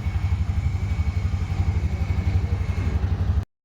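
A Bajaj auto rickshaw's 205cc engine, which has a pick-up problem, runs steadily with a low, rhythmic chugging throb close by and no talk. It cuts off abruptly near the end.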